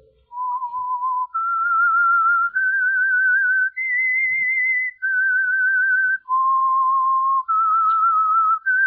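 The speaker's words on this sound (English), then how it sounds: "That whistle is your signal for the Signal Oil Program," A lone whistled melody serves as the theme of The Whistler radio program, a clear, steady tune of sustained notes stepping up and down in pitch, loud and close with no talking.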